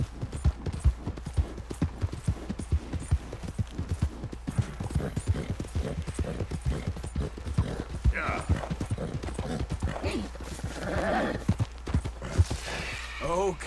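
Steady rhythmic horse hoofbeats in Red Dead Redemption 2 clip-clop throughout, with occasional voices and other game sounds over them.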